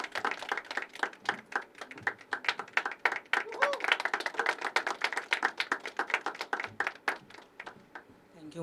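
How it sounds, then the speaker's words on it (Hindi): Audience at a poetry open mic claps for a poet being called to the stage, a lively burst of many distinct hand claps with sharp individual slaps, rising and then thinning out toward the end. "एक बार ज़ोरदार तालियां ऋषिकेश के लिए"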